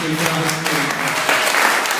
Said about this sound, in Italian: Fate un applauso agli organizzatori